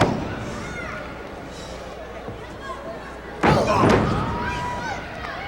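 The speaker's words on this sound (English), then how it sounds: "Just knocks Brody Chase right to the mat hard." A hard thud of a wrestler being knocked down onto the ring mat at a 1987 NWA professional wrestling match, a single heavy slam partway through, heard amid arena crowd noise and commentary.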